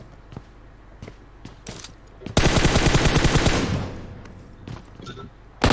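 Automatic gunfire from a PUBG Mobile match, with scattered single shots early on, then a loud, sustained machine-gun burst lasting over a second, a few more isolated shots, and a final sharp blast at the end.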